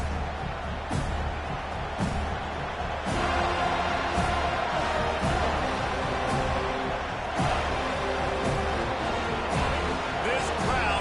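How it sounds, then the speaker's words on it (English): Football stadium crowd noise fills the background with a steady roar during a college game with the Seminoles, while an announcer talks over it and occasional sharp thuds stand out. "This crowd bringing an ear-splitting welcome to their visitors."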